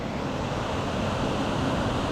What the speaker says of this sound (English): There's like a little waterfall and stuff here that I've never seen before in my life.